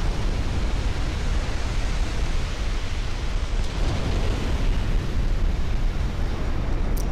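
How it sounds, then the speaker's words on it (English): A cascading flash fire tears through a warship in Ultimate Admiral: Dreadnoughts as a dense, continuous roaring rumble of explosion that holds loud and steady for several seconds without break. "Ooh, and a flash fire. Cascading flash fire."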